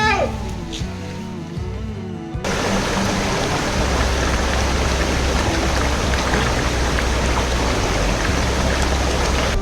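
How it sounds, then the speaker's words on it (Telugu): A large waterfall in dense Nallamala forest roars as a loud, constant rushing wash, starting abruptly after a few seconds of people talking and then continuing as steady, close white-noise water. "చూడండి, ఇంత పెద్ద వాటర్ ఫాల్ బాహ్య ప్రపంచానికి తెలియకుండా దట్టమైన అడవిలో దాగి ఉంది"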